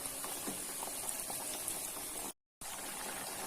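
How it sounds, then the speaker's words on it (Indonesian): Chicken katsu pieces deep-frying in hot oil, submerged in a pan over medium heat, give a steady, dense crackling sizzle that runs continuously and loud, broken only by a brief total dropout near the end. "Setelah minyaknya panas, lalu masukkan secukupnya ya. Pastikan ayamnya ini terendam minyaknya."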